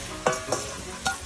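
Potato pieces fry in oil in a kadai, with three distinct spoon scrapes and stirs over a soft, continuous sizzle, close up and without speech.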